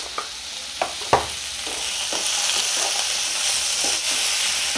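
Sliced onions frying with salt in a pan for egg curry give a continuous bright sizzle, close and fairly loud, with a few sharp knocks and scrapes of a spoon stirring through them; no one speaks.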